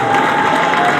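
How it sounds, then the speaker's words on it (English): A speedway crowd at the British Sidecar Speedway Championship final at Belle Vue cheers and applauds for a rider, a brief, loud, continuous burst of massed voices and clapping. "Someone give Andy Cossar a cheer in yellow"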